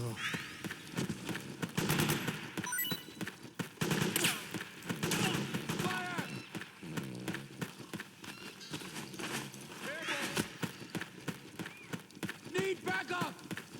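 Bursts of suppressing gunfire in Metal Gear Solid 4 clatter in the Cove Valley battle, mixed with running footsteps and shouted voices, with dense irregular shots throughout.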